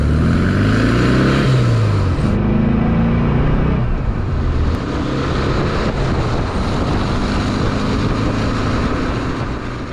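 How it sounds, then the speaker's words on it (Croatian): Volkswagen Beetle 1200 air-cooled engine heard from inside the cabin, a loud rumbling drone that climbs in pitch as it accelerates, then settles into a steady rough hum, with no talking. "Zvuk od bube se naravno specifično čuje izvana, a specifično u kabini."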